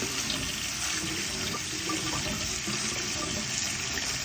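Tap water pours steadily into a sink, rinsing drained canned butter beans in a constant close hiss and splash with no pauses.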